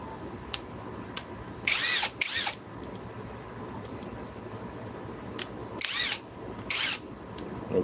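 A power drill set to bolt-tightening mode fires in short bursts, two pairs of brief whirring pulses with quiet gaps between, close to the mic over a low background hum.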